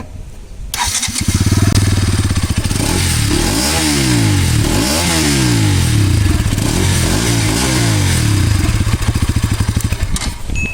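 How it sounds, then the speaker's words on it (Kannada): A Bajaj Pulsar NS200 motorcycle fires up after a brief pause, then its exhaust runs loud and close, settling to a steady idle between several rising and falling throttle blips, with no talking. "ಬರೀ ಇವಾಗ NS200 ಸೌಂಡ್ ಹೇಗಿದೆ ಅನ್ನೋದಕ್ಕೆ ಕೇಳ್ಕೊಂಬರೋಣ ಎಕ್ಸಾಸ್ಟ್ ಸೌಂಡು"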